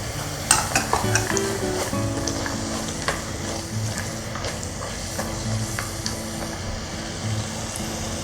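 Peas and mixed vegetables fry in a pan for vegetable biryani, a steady sizzle broken by repeated scraping and clinking stirs, close and continuous.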